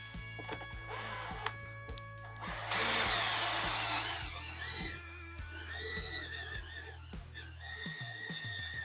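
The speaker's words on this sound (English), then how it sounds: "we can go ahead and drill a pilot hole" A power drill whirs steadily at close range, drilling a pilot hole in a metal fender on a 1989 Harley-Davidson Sportster chopper, its pitch rising into a harsher, louder grind midway before settling back, with mechanical hum underneath.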